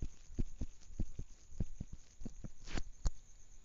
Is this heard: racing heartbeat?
yes